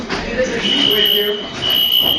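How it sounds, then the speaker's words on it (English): A classroom fire alarm sounds as a high, steady electronic tone in short bursts, partly masked by people talking close by. "fire alarm"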